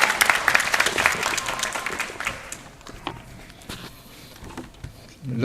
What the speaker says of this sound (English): Please, round of applause for Mr.